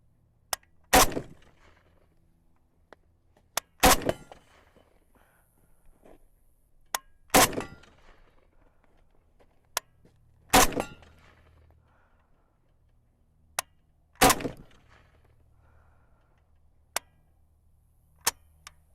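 Norinco MAK 90 semi-automatic rifle firing a string of shots outdoors, sharp loud cracks spaced irregularly a second or more apart, some louder and nearer with brief decaying echoes, quieter snaps between, no talking.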